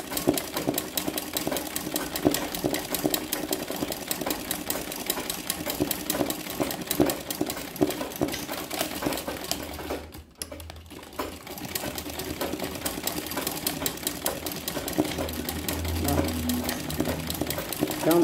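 Embroidery sewing machine stitching an apple design: a fast, steady mechanical needle rattle runs throughout, briefly cut off for a moment partway through and then resuming, close and continuous, with no talking.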